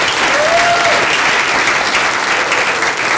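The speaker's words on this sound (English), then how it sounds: "Somebody give the Lord a hand clap." An audience at a church Christmas play claps steadily, a dense wash of applause that stays loud for the whole few seconds.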